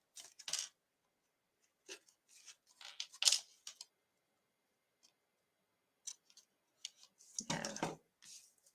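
Scissors snip through craft paper to cut bunting flags by hand. A few sharp, separate cuts come close and quiet, scattered between pauses, and one longer rustling cut comes near the end.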